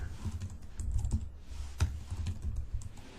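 Keystrokes on a computer keyboard clatter in an irregular run of soft clicks and taps during C# coding in a web application tutorial, with no talking.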